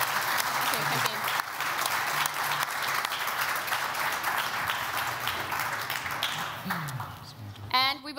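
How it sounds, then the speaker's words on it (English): Audience applause for the panelists at the close of a panel at hub.berlin 2022, a steady wash of many hands clapping sustained for several seconds, with voices speaking over it near the end. "a round of applause to our panelists here."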